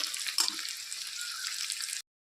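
A soft, steady sizzle of eggs frying in oil for about two seconds, with a brief clink early on, then it cuts to silence.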